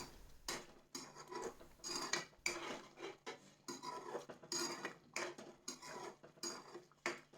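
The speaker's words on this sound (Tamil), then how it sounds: "பன்னீர் போட்டு நல்லா கலந்து விட்டுட்டு" Paneer cubes are stirred into a butter masala gravy, a utensil scraping and clinking steadily against the pan in quick, close, fairly quiet strokes.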